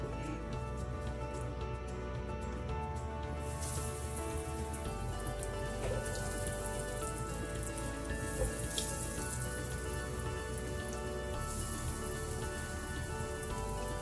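Minced beef kheema cutlets fry in a pan of hot oil, making a loud, steady, close sizzling hiss that carries on without a break and has no voices over it.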